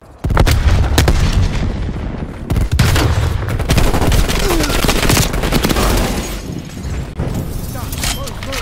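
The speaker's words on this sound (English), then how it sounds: "Throwing grenade." A grenade thrown during a Call of Duty Black Ops Cold War match on Nuketown, heard in a loud, dense battle mix of continuous gunfire, bursts and booms, with game voice callouts.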